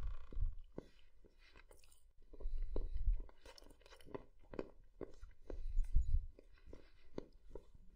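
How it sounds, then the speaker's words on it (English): Crisp crunching bites from a video game character eating crunchy food, at an uneven pace, close and fairly quiet, with soft chewing between the louder crunches. "I don't know why, but my character chewing is really putting me on edge."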